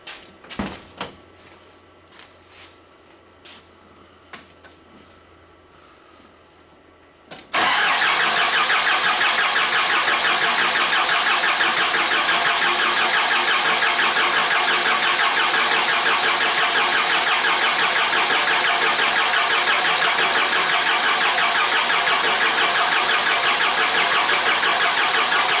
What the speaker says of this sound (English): We'll try cranking her again.